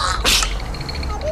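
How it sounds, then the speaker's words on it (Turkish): A single brief sneeze bursts out over a noisy background with voices nearby. "Hapşıracağım çekil"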